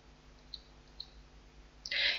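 A few faint, sharp computer mouse clicks spaced about half a second apart, followed by a brief louder burst of noise at the end.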